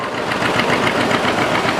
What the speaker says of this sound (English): This next tractor is owned by Vern Tinkler. This is 1957 John Deere 620.